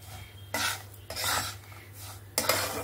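Roasted semolina with cracked cardamom is stirred in a pan for sweet halwa, giving three bursts of scraping and clinking from a spoon against the metal, separated by short pauses over a low steady hum.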